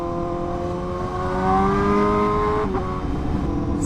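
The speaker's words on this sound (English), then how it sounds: "Bro, this bike is so loud. I love it. It's such a nice tone." Loud superbike passing on a beach road during a Fourth of July ride-out, a whining engine note that swells and peaks mid-way as it goes by close, then fades slightly.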